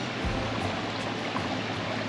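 Stream water flows steadily across a trail crossing in Marquette, a continuous close broadband rush with no talk over it.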